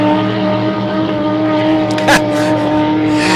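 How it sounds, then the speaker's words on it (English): A powerful vintage hydroplane racing boat engine roars loudly and continuously at high revs down the backstretch at the Pateros races, a sustained harsh drone with a brief surge partway through. "You can hear Wes as he puts his foot in that thing and runs it hard down the backstretch"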